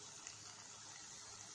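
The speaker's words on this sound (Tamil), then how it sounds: "கொஞ்சம் தண்ணி போடலாம்." Water poured into a pan of prawn semi gravy, a steady, quiet gushing stream running for the whole short stretch, with no other sounds.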